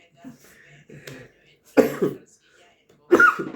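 A person coughs twice, two harsh, close bursts separated by a pause, with a few soft vocal sounds and a throat noise before them.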